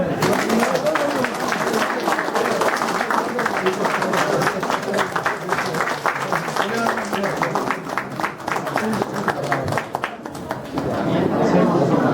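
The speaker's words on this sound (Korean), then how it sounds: "박수 좀 쳐주세요." A crowd at a 2012 Korean general election victory event for a Gangneung constituency candidate claps steadily throughout, a dense continuous patter with chatter and voices mixed in.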